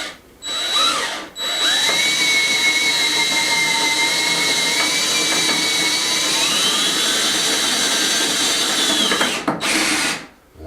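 A power driver runs black screws into wood as a long, loud, steady whirring drive of about eight seconds, with brief starts and stops at each end.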